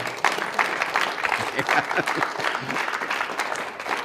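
A studio audience of Creighton University students applauding, a dense, steady burst of clapping that fills the whole moment at moderate loudness.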